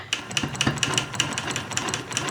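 A sewing machine stitches in a quilting pass with a Petunia ruler, a fast, even run of mechanical needle clicks, quiet and close, with no voices.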